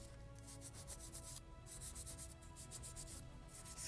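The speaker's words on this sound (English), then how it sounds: "Scotch-Brite removes all that hair or lint which can get into your way later" A Scotch-Brite pad rubs steadily over a wooden model of the 1776 gunboat Philadelphia, a close, continuous scrubbing with short repeated strokes and no talk.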